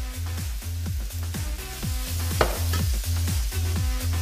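Food sizzles in hot oil in a pan while a utensil stirs it in a steady, rhythmic scraping pattern, loud and close, with no talk over it.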